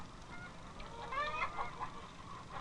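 Broiler chickens on a Georgia farm, a faint distant flock giving scattered honking, clucking calls that rise briefly in the middle over a low background hum.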